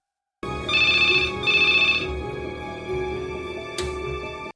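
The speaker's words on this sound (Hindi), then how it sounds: "ये 1990s की एक रात थी जब नोरा को एक फोन कॉल्स आती है।" A telephone rings with a bright, warbling electronic tone in two quick bursts, then rings on more steadily, loud and close.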